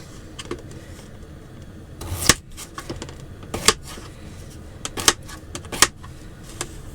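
A knife chopping unpeeled potatoes on a chopping board, close by: irregular sharp taps and knocks, some single and some in quick pairs, over quiet room noise with no talking.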